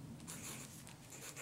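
A pen writes a year on a film negative folder, a soft close scratching of short strokes, quiet and continuous for a second or so.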